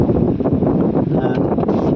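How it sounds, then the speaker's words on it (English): Gusty wind buffets the microphone with a continuous low rumbling roar, steady throughout. "it's a bit windy today"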